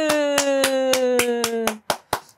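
About nine sharp hand claps, from someone with a fracture, in a steady rhythm over a sustained tone that cuts out, leaving the last few claps alone.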